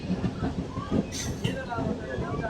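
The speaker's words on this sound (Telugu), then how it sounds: "పెనుగొండకు మన ట్రైన్ చేరుకుంది 5 నిమిషాలు ఆలస్యంగా" A DEMU train arriving at Penukonda Junction, rumbling and clattering up close with a brief high hiss or squeal midway, while a voice talks in the background.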